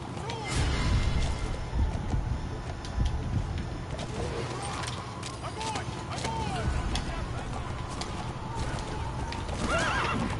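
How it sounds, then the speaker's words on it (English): A horse moves through an outpost in the Metal Gear Solid V video game, with steady clip-clop hoofbeats, occasional whinnies and faint bird coos over a constant ambient bed, while someone talks over it. "I'm just gonna casually trot my horse across your fucking outpost here."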